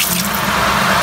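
Water pours into a pot of brown stew cow heel, a loud close splashing gush over about a second.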